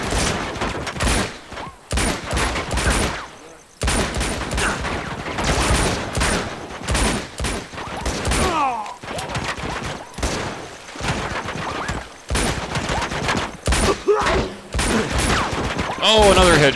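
Sustained gunfire in Uncharted 2: Among Thieves, with rapid volleys of shots in bursts broken by brief silent gaps, loud and close throughout, with a voice speaking over parts of it.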